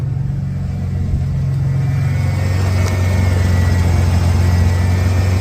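A restored Ford Bronco engine idles at about 850 RPM just after its timing was set. The low rumble is loud and even, close up and steady throughout, with no voices.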